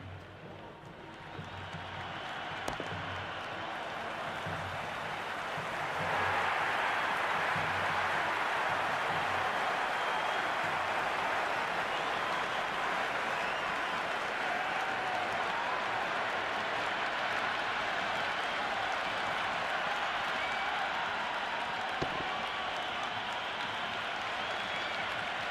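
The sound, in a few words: cricket match crowd cheering and applauding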